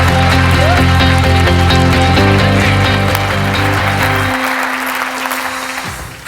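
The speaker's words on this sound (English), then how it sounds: "Ladies and gentlemen, a big warm round of applause for Roger Seip." Warm audience applause welcoming a speaker onto a stage, loud dense clapping over booming walk-on music that cuts off near the end, with no talking.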